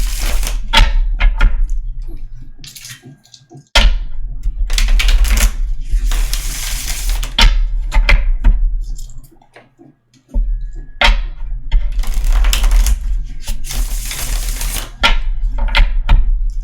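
A deck of tarot cards is shuffled repeatedly: loud, crisp riffling and clattering bursts come in several rounds, separated by brief quiet pauses.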